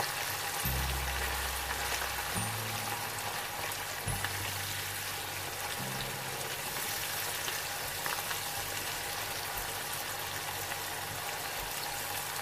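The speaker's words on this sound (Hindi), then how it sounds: "अच्छी तरह से इसके मसाले की भुनाई कर लेंगे।" Biryani masala with chilies being fried and stirred for chicken tikka biryani, a steady dense sizzle filling the whole stretch, close and even, with a low rhythmic hum underneath and no talking.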